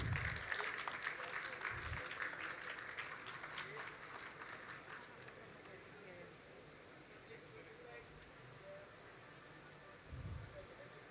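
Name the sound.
conference audience applause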